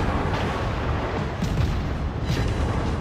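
Naval gunfire from a cruiser, the Charleston, in World of Warships on an archipelago map, a dense continuous rumble of booming shots with repeated muffled blasts, loud and steady throughout.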